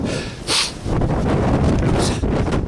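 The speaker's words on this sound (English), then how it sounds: "That wind is a killer." Strong winter wind buffets the microphone on the summit ridge of Dow Crag near Coniston Old Man, a loud, continuous roar with harder gusts at the start and near the end.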